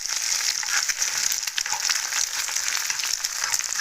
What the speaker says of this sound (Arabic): نعملها كده نقلي البيضه كده اهو